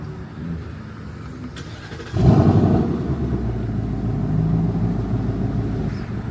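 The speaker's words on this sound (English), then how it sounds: "let's give it a cold start stock." A stock-exhaust 2024 Mustang GT V8 fires up, a sudden loud burst of engine rumble that settles into a steady, deep idle close by.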